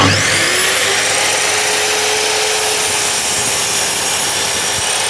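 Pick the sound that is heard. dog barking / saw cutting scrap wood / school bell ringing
saw cutting scrap wood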